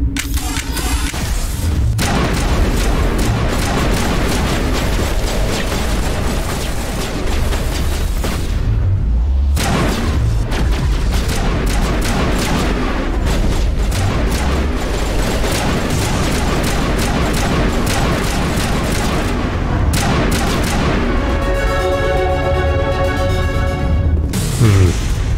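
Loud, dense gunfire and booming blasts in a Mass Effect Legendary Edition firefight against Matriarch Benezia in a lab, sustained explosive thuds and bursts continuing throughout with a brief lull midway.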